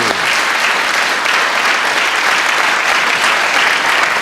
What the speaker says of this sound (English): give a wonderful round of applause to a really gorgeous lady and very magical Portia!